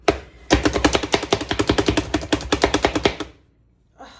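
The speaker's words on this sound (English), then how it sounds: "well, I'm going to do 3/4 of an onion." Knife chopping an onion on a cutting board, a fast even run of crisp close taps for about three seconds that then stops, followed by quiet and a single knock.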